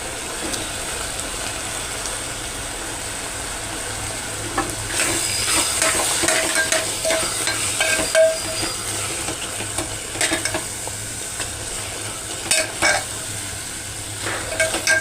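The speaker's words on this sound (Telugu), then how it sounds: "కొంచెం కరివేపాకు వేద్దాం." Curry leaves crackling and sizzling in hot oil while a spoon stirs bottle gourd sesame curry in a pan, a steady fry hiss with scraping stirs and occasional sharp pops, close and without talk.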